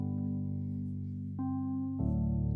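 Whirly electric piano preset from Logic's keyboard library plays sustained, ringing chords that change twice, clean and close with no voices.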